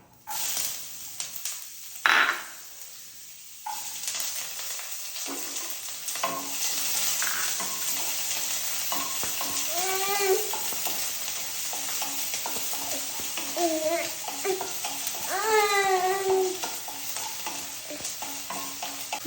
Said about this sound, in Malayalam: നമുക്കിനി ഇഞ്ചിയും വെളുത്തുള്ളിയും ഇട്ട് കൊടുക്കാം